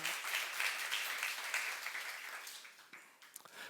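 A church youth-service congregation gives a short round of applause: quiet, crackling hand-clapping that holds steady and then thins out after a few seconds, heard from a distance.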